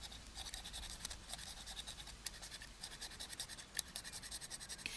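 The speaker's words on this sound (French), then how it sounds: "mon bois fait ça en même temps que je frotte avec mon cutter" A craft cutter knife scrapes a thin wooden stick while it is shaped into a miniature witch's wand. Faint, close, rhythmic scratching strokes repeat steadily with no talk.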